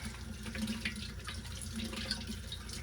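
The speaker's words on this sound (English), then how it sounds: "So first up, I just give everything a good rinse," Running tap water rinses dairy milking equipment in a sink, a continuous splashing stream with small clinks and gurgles, close and fairly quiet, with no talk.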